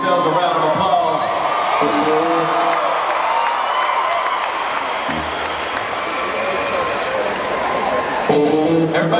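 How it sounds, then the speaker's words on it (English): Large outdoor concert audience at a show in Tampa, Florida, applauding and cheering steadily with whoops, a dense continuous wash of clapping that swells slightly near the end. "Give yourselves a round of applause."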